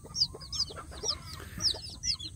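Newly hatched Indonesian kampung chicks peep in a steady run of sharp, high chirps, several birds close by over a low background hum.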